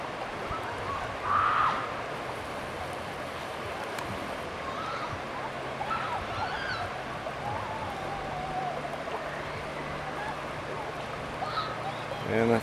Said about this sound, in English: Waterfalls are really something else.